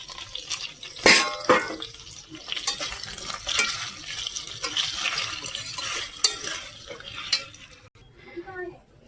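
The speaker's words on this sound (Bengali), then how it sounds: "তো এই যে দেখো মাংস কষানো হচ্ছে" Meat and tomato sautéing in a home kitchen pan, with stirring scrapes and clinks over a steady soft sizzle, the sound continuing throughout with a brief quieter moment near the end.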